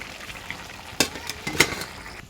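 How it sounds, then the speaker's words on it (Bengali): Fish curry with cauliflower and beans sautés in a pan with a low constant sizzle, broken by two sharper stirring scrapes close by. "ওই যে কষাইতেছি, 2টা সিম আসছিল, সিম দিয়ে দিছি"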